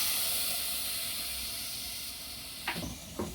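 Milk poured into a hot pan of caramelized jaggery, sugar and tea leaves hisses in a loud steady steam sizzle that slowly fades, with a couple of short clinks near the end.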